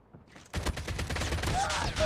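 Rapid bursts of gunfire from the mobile shooter game Call of Duty Mobile, a dense volley of loud repeated shots beginning abruptly after a quiet start and continuing steadily, with brief higher-pitched effect tones near the end.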